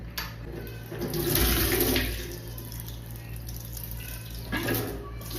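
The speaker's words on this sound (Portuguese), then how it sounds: "Vamos ver se vai sair ar, né?" Air and water sputter and gush from a house water pipe in bursts, surging loudly in the middle and again near the end over a constant hiss, with people talking nearby.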